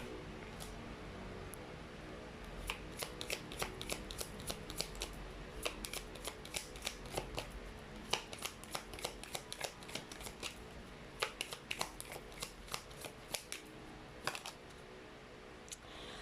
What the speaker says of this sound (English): let me actually pull up more cards here